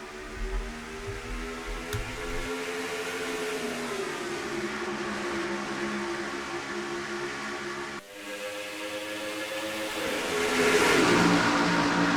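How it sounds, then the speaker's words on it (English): Stock cars at the green flag at Darlington Raceway in a racing video game, a pack of engines droning in layered pitches that rise and sweep, growing louder toward the end, with no voices. "We're green flag racing at the Darlington Raceway."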